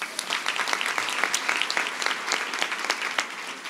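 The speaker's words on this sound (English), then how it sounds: "Give him a round of applause" Audience applause for a speaker at a live talk event: steady, dense clapping from a crowd.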